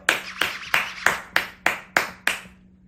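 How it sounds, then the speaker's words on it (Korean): Eight sharp, evenly spaced hand claps ring out one after another, close and clear with a little room echo, the final clap fading into quiet. "박수 한번 주세요"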